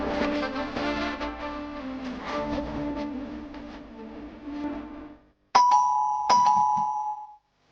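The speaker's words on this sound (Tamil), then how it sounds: "காலிங் பெல் அடிக்குது, யாருன்னு போய் பாரு." A doorbell rings twice, two bright chimes that sound alone after a stretch of music fades out.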